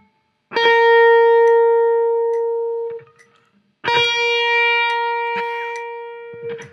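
An electric guitar plays two long, loud sustained notes in succession, close and clear, each ringing out with rich overtones after a string bend brought up to match the pitch.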